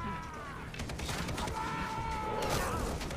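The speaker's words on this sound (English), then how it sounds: "this is the best explosive arrow ever" Explosive arrow detonating in a sandbox video game: a sharp crackling burst with rattling debris and a brief tonal whine, close and moderately loud, with no talk over it.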